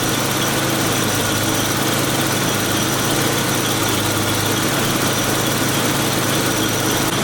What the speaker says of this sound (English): Let me move the wheel back and forth.